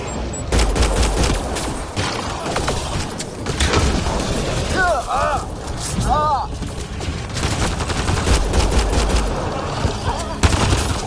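Heavy sustained gunfire and booming shots fill a Mass Effect Andromeda firefight, with warbling alien-like sweeps in the middle and voices shouting over the loud, constant barrage.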